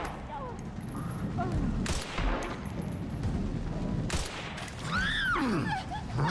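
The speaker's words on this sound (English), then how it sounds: "I keep shooting high" Gunshots from Leon in the video game Resident Evil 4 mix with other game sounds and creature cries. A few sharp bangs stand out against a busy, fairly loud background.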